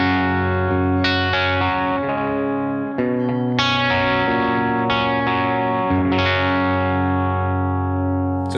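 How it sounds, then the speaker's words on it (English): Clean electric guitar tone from Bias FX Live with tremolo switched off, sustained chords ringing out and changing every second or so, steady and fairly loud with a hint of breakup, no talking. "Here's the clean sound without tremolo."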